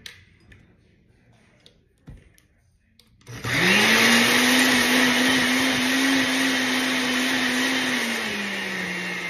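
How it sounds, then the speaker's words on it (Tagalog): A blender whirs to life on aloe vera after a few seconds of quiet, its motor holding a loud, steady roar that eases slightly toward the end. "Blend natin ngayon, ito."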